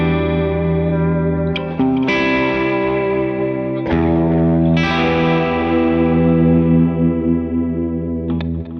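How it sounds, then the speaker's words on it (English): Electric guitar chords played through a mono amplifier fed from the aux of a big stereo delay, ringing out loud and sustained with repeating echo tails and several fresh strums. "We can just plug a mono amplifier straight into the aux, and then we get this big stereo delay sound."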